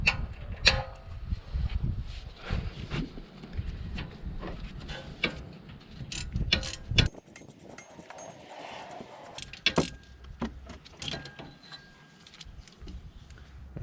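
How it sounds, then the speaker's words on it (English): Metal clicks and clinks from a 7mm Allen key loosening the rear brake caliper slider pins on a BMW E87, irregular close-up taps and scrapes with no talking. "we're going to take a 7mm Allen and unscrew the slider pins"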